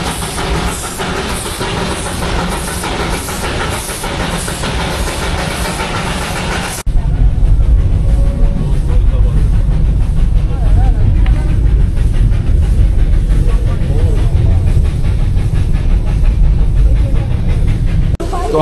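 Darjeeling hill train rolling along inside a Vistadome coach, a steady loud rumble and clatter of wheels on rails with constant broadband noise that shifts to a heavier, louder tone partway through, with voices faintly audible.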